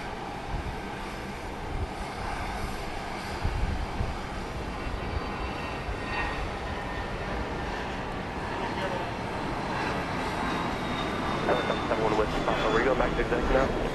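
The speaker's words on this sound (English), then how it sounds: "There goes that Cessna." A Cessna passes at Dallas Love Field at night, a steady droning engine that swells toward the end, heard under continuous talk.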